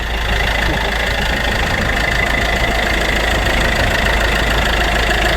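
An Iveco Daily 2.3 HPI diesel engine idles steadily with a rough, tractor-like clatter, a continuous loud drone with no breaks across the whole span.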